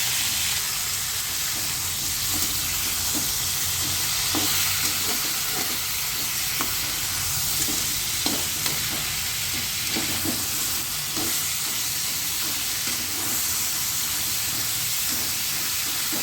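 Spices sizzle steadily in hot oil for a crab curry, a continuous frying hiss with occasional stirring scrapes and soft clicks, close and even throughout with no talk.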